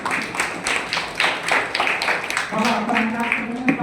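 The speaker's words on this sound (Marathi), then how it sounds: "सर्वांनी टाळ्या त्याच्यासाठी" A group of people clapping together for someone at a children's Dhamma teaching gathering, a burst of brisk overlapping claps mixed with voices talking.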